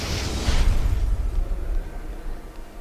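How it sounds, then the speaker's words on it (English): A damaged power generator explodes in a video game, opening with a burst of rushing noise and a deep rumbling boom that fades into a low, lingering roar. "Then I heard an explosion."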